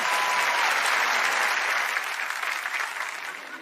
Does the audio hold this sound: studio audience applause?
yes